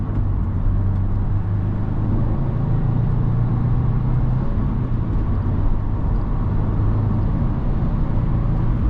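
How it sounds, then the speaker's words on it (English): A 2024 Subaru WRX Limited accelerates onto the highway, heard from inside as a steady, loud engine drone under broad road and wind rush, the engine note holding level throughout and no one speaking. "All right, we're coming up onto the highway. Let's see how she does."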